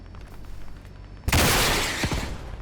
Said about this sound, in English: I missed my RPG shot right there